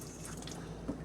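Water running from a kitchen faucet into a double basin sink in a 2006 Fleetwood Tioga 31M Class C motorhome, a soft steady wash with faint drips, quiet and close.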